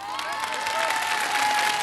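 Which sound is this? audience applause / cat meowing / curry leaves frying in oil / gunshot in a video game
audience applause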